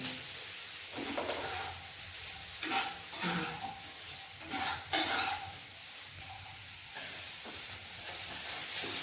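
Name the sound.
frying onions and tomato in a pan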